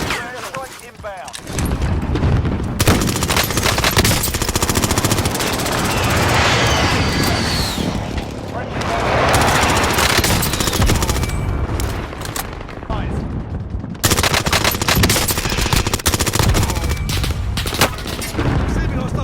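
Dense gunfire and booming explosions from Call of Duty Warzone in Resurgence and Clash matches, with bursts and volleys rolling almost continuously for the whole stretch at high volume, under in-game radio voice callouts.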